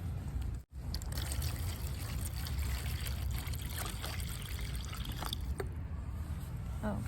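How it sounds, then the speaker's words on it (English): Water pours steadily into a seed tray for bottom watering, a continuous close trickle and splash that runs for several seconds with a brief break near the start. "give it a nice amount of water here"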